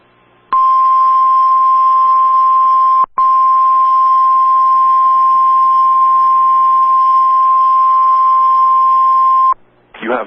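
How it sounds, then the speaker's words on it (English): A loud, steady single-pitch tone from a NOAA Weather Radio warning alarm test drones continuously for about nine seconds, broken once by a brief dropout, then cuts off abruptly. "You have just heard a test of the National Weather Service radio warning alarm feature."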